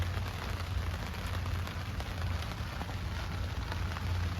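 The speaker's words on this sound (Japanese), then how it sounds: "ご覧の通り今日は雨です。" Steady rain falling on surfaces at a campsite, a dense even patter with a low rumble throughout, close and unbroken, no voices.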